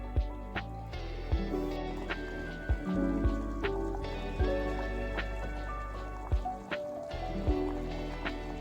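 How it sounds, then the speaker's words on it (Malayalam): Chickpea curry with ground coconut paste bubbles at a rolling boil in a pot, giving soft irregular plops and pops over a steady wash of sound and tonal background music. "ഇപ്പം നമ്മുടെ കടലക്കറി നന്നായിട്ട് തിളച്ച് വരിയിട്ടുണ്ട്"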